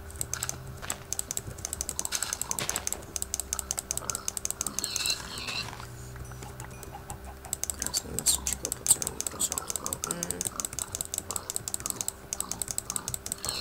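Rapid computer keyboard typing clicks during Minecraft play, steady and close, running almost continuously with a faint game soundscape underneath.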